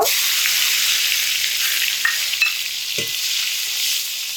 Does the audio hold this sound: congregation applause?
no